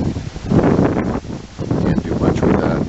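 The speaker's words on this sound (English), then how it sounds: "Sorry about the wind." Gusty wind buffets an outdoor microphone on a windy morning, a loud continuous rumbling roar that swells and dips over a few seconds with no clear talking.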